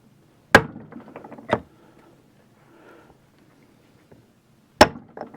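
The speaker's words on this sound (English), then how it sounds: "So I just got a mallet." A mallet strikes an NP231 transfer case part during disassembly, giving three sharp, close knocks spaced over a few seconds with faint rattles and quiet handling noise between them.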